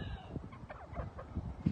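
Kelso gamefowl hens cluck on a farm with a flock of thousands, several short, soft, irregular clucks close by, ending with a sharp low thump.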